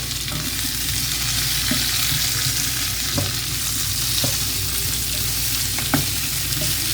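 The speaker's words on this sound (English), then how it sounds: "we're gonna keep on mixing until it becomes goldish color" Eggplant pieces fry steadily in hot oil in a pan, a dense continuous sizzle close by with occasional scraping clicks as a utensil stirs them.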